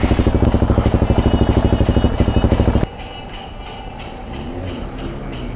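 A motorcycle engine on a city street in France, near a red light, throbs with a fast, even pulse at close range for about three seconds, then cuts away to a quieter, steady rumble of traffic and wind.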